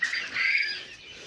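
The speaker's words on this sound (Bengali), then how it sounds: "এখানে আমাদের কোয়েল পাখির লিটারে কিছু আছে" A single shrill, drawn-out chirp from a quail close by on a farm, fading into quiet.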